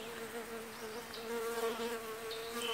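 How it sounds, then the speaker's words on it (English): Bees buzz steadily at close range, a continuous droning hum that swells slightly in the second half with no pauses. "The bees are acting like I'm Matt today"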